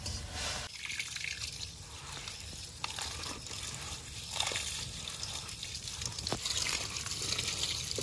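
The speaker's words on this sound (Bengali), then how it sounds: "তো ভালো করে চাল ডাল মিশিয়ে কলে থেকে ভালো করে ধুয়ে নিয়ে আসবো।" Rice and lentils mixed together for khichuri being washed under a tap, with continuous running water, splashing, trickling and sloshing throughout and occasional clinks of a container, close and moderately loud.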